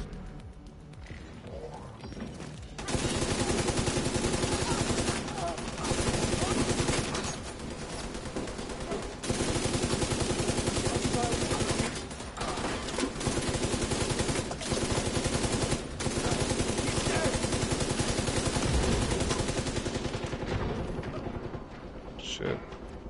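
Rapid automatic gunfire from the player's weapon in The Division 2 rattles in long, loud bursts broken by short pauses, with a game soundtrack and battle noise underneath.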